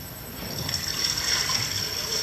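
Ocean waves wash around a floating wave energy test device made of styrofoam and chain, a steady, loud rushing and splashing that runs without a break and with no voices.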